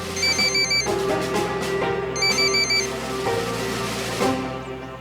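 A mobile phone rings with a melodic electronic ringtone, its chiming phrase repeating twice over a sustained musical backing, clear and close with no voices.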